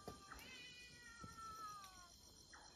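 A cat meows several times at night below a hammock slung in a Karen cemetery. The calls are drawn-out and wavering, faint and somewhat distant, with a light background hiss and no speech.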